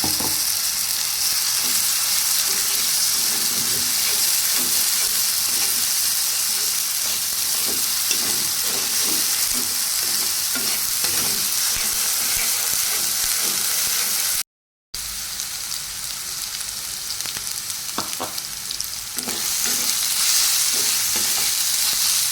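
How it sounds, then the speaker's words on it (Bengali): Ginger-garlic paste frying with onion in a pan, with a steady sizzle throughout and frequent scraping stir strokes, close and fairly loud, with a brief dropout near the end. "আদা রসুন বাটাটা ভাজা হয়ে গেছে"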